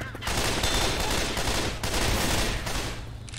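Sustained automatic gunfire rattles in Left 4 Dead, played with Christmas mods. Rapid shots run almost continuously at close range, with one brief break partway through.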